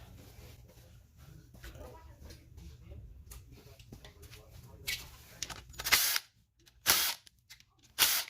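A ratchet works on 8mm bolts on a Suzuki DR650 motorcycle, giving short bursts of loud clicking in three separate spurts after a stretch of soft background noise and quiet handling sounds.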